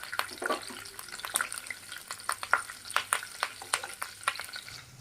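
Curry leaves and long-cut green chillies frying in oil in a pan for crab curry, crackling and spitting in quick, irregular pops over a soft, close sizzle.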